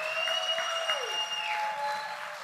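Church congregation clapping in a brief, moderate burst of applause, with a sustained electronic or musical tone sliding down partway through over the patter.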